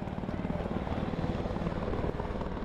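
A helicopter's steady rotor chop and engine drone fill the air continuously, fairly loud and unbroken, with no voices over it.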